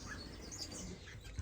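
Baby finches chirp softly in an indoor aviary nest box, a faint, brief patter of high peeps over low room noise.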